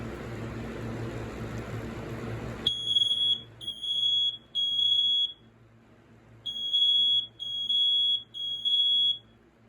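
Two loud, close interconnected smoke alarms shriek in repeated high-pitched beeping bursts with short pauses, following a low humming noise that cuts off abruptly.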